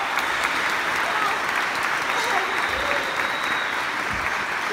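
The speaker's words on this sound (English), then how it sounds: "massive round of applause to everyone else nominated" Sustained audience applause fills an awards show hall, a dense steady wash of clapping from a large crowd running loud and unbroken throughout.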